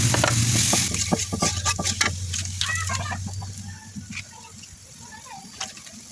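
Poppy seed paste and garlic paste hit a pan with already browned onions for pointed gourd korma, frying and stirred with scraping strokes that are busiest at first and then settle into a softer, fading sizzle.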